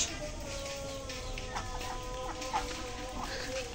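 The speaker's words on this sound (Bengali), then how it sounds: "তো ওদের বাসায় হাঁস আছে" Ducks quacking and chattering at a moderate distance, repeated soft calls over a low background hum, with faint voices now and then.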